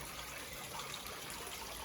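Water trickles steadily in a garden water lily pond, a soft continuous burble heard up close and fairly quiet, with no voices over it.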